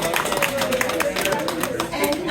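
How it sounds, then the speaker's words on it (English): Audience applause for a guest speaker at the close of a lecture, a steady spread of clapping lasting a couple of seconds, with voices talking over it. "Let's give her a big round of applause and thank her for coming."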